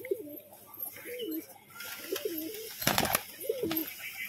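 Pigeons in a loft, a setting pair of the fancy tumbler type, coo repeatedly in close, rhythmic rolling phrases, with a brief burst of rustling or wing flutter midway.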